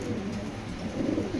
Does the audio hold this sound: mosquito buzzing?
no